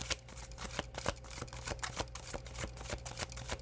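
Rider-Waite tarot cards being shuffled by hand, a quick run of crisp papery riffles and taps in a steady rhythm, close and moderately loud, with no voices.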